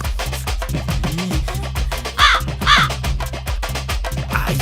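A crow caws twice in a loud, harsh pair of calls, followed by a fainter third caw, over a steady background of music.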